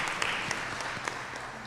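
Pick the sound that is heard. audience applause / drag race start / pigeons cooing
audience applause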